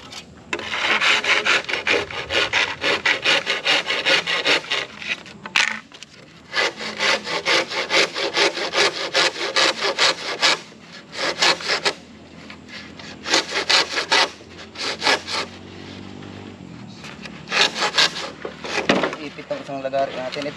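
A hand saw cuts back and forth through bamboo in steady, loud rasping strokes with brief pauses between bursts, while people talk nearby.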